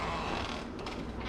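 A door of a holiday house at Stanage Bay, Australia, creaks as it is pushed open. The creak is a steady, fairly loud mechanical groan heard up close, with no talking.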